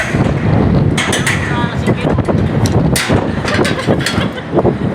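Strong wind buffets the microphone high up on building scaffolding near a helipad, a loud, continuous broadband roar with gusty surges while voices talk over it.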